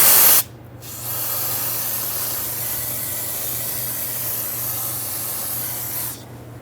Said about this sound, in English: I'm going to take some brake parts cleaner, clean all this up